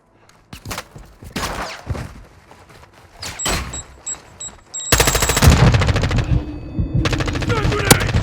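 Automatic gunfire in Call of Duty Modern Warfare II, bursts of rapid shots and thuds building into a dense, loud sustained volley in the second half, with game voices calling out between shots.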